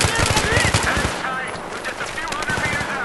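Rapid, close machine-gun fire in the Battlefield 3 video game, with repeated sharp bursts and short pauses in a loud firefight.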